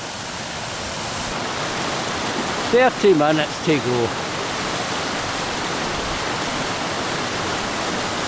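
Mountain water rushes steadily in a stream or waterfall at Creag Meagaidh in the Scottish hills, a loud, close, unbroken roar, with a voice speaking briefly over it.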